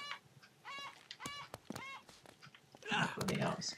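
A bird in Uncharted: Drake's Fortune honks a few times in short harsh goose-like calls, with a louder flurry at the end, mixed with brief voices.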